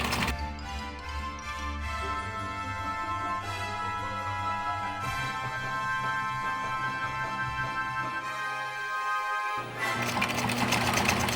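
Sewing machine stitching in the ditch along apron fabric, a continuous close mechanical whir and rattle running almost the whole time, briefly pausing near the end before starting again.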